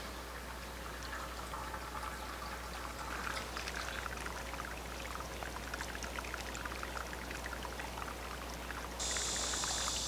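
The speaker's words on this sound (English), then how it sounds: "So now we'll start draining our wort into the boiling kettle." Home-brewed beer wort drains from a mash tun into a boiling kettle as a steady, close trickle and splash of liquid, continuous and unbroken, with a faint background hum.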